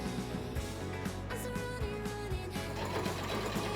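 A sewing machine stitches dress straps onto the back neckline of a square-neck cami summer dress. It runs as a steady, close mechanical whir with a fast needle rhythm for the whole stretch.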